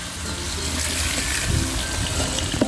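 Water is poured into a pan of spicy village-style snail fry as it cooks, a steady rushing gush and sizzle that stays fairly even throughout.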